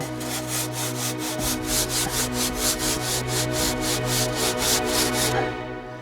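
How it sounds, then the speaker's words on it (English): A rusty handsaw cuts beneath snow bricks while an igloo is being built, giving a close, rhythmic rasping of quick back-and-forth strokes that stops near the end. "A handsaw."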